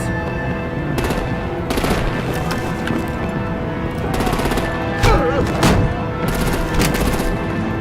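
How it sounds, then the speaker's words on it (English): Heavy gunfire in a Telltale Batman game plays as repeated loud bursts of automatic fire over a steady rumbling background. The bursts recur every second or so. "Break out the artillery and disable their vehicles!"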